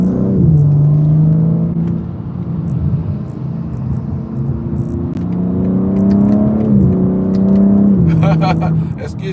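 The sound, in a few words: car being driven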